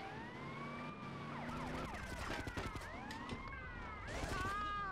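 Police sirens wailing in the video game GTA Vice City Stories, several overlapping rising and falling sirens with engine noise under them, loud and close throughout, with no clear speech.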